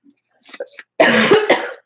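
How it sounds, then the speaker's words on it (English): A soft throaty rasp, then one loud, harsh cough up close, ending in a brief rough tail. "sorry about the coughing today"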